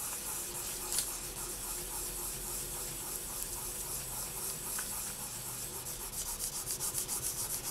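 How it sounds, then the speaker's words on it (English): Steady, close scratchy rubbing continues throughout as a tool burnishes a panda stencil onto polymer clay, with the strokes growing more rhythmic toward the end. "you can either leave it like that or you can burnish it on, and that is what I'm going to be doing"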